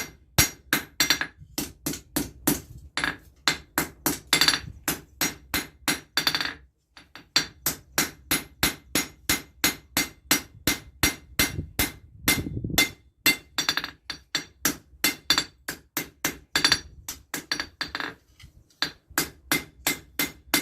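Steady, rhythmic hammer blows ring out on hot metal at a blacksmith's forge, close and loud, each strike sharp and metallic, in bursts with short pauses between runs.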